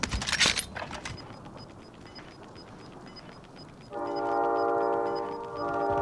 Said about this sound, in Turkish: Tren geliyor kanka